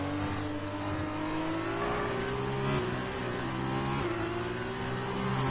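An F2 race car in F1 2020 on the Abu Dhabi circuit, its engine screaming at high revs, with the pitch steadily climbing through upshifts in a continuous, loud onboard drone.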